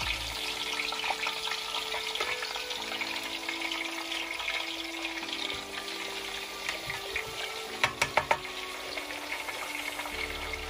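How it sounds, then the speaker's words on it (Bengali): Roast fries in a large pan for an iftar meal for forty people, a continuous loud sizzle with occasional stirring clinks and a short burst of sharp knocks near the end, no talk. "তো এখন আমার রোস্ট ফ্রাই করা লাগছি।"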